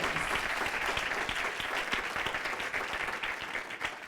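A church congregation applauds strongly during an apostle's bilingual sermon, with sustained dense clapping from a large crowd, fairly distant and even in level throughout.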